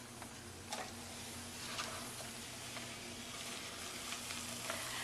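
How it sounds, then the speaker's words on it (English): Cauliflower florets frying in oil in a pan, a faint steady sizzle and hiss with occasional soft crackles, alone and continuous throughout. "So we add the cauliflower."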